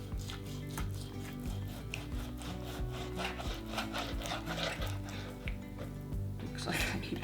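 A dull kitchen knife sawing back and forth through a bone-in pork roast, with a steady, close rasping and rubbing that continues in repeated strokes throughout.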